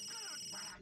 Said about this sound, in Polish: odbierz ten telefon, zobacz, to dzwoni